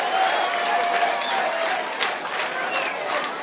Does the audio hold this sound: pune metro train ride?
no